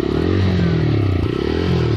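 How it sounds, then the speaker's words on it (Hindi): TVS Raider motorcycle engine revving hard during a vibration test, a loud continuous high-rpm drone with rattling clatter, close up and without talk. "चलिए एक बार हाँ गाड़ी का RPM ले जाते हैं 7-8 तक, ये देखिए गाड़ी का RPM।"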